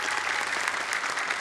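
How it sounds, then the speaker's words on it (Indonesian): An audience applauds at an Islamic children's quiz event, a short, dense round of clapping that stays steady and fairly close. "Tepuk tangan dong."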